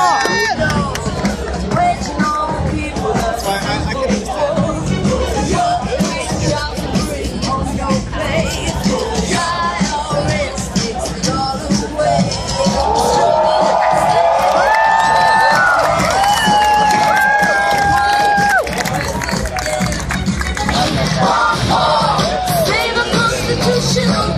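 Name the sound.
crowd cheering for Ron Paul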